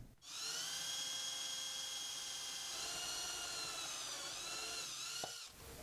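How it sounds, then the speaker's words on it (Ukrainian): A small power drill whines steadily at a high pitch for several seconds, drilling holes in a DVD disc, starting abruptly and cutting off near the end, with no talking. "Свердлимо отвори."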